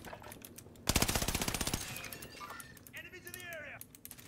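Call of Duty Warzone gunfire, a loud rapid machine-gun burst of about a dozen shots, then fainter scattered shots and game effects, with a voice speaking over parts of it.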